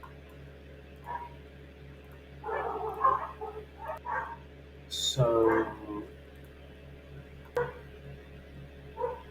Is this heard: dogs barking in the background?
yes